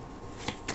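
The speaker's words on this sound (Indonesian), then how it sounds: "Oke, sebentar aku shuffle dulu." Tarot cards being shuffled in a quick riffle, two short crisp bursts of card flutter close to the mic over a low background hum, with no talking.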